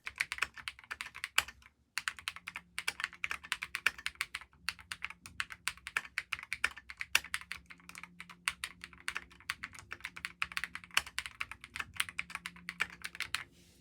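Steady typing on a Kiiboom Phantom 81 mechanical keyboard with clear switches, crisp clicky keystrokes in quick irregular bursts, close and clear with no talking.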